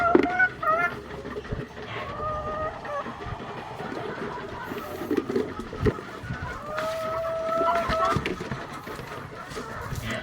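Chickens cluck and squawk intermittently nearby, with brief rising calls, while a person talks over them.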